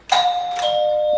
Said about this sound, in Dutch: Dit is de bel, denk ik.